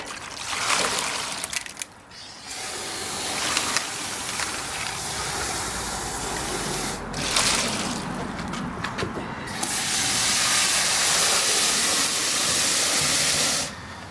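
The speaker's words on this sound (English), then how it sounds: "I'm just rinsing out the barrel" Water from a hose sprays and hisses into a rotary rock tumbler barrel as it is rinsed out, a steady rushing spray broken by brief pauses and splashes, close and continuous.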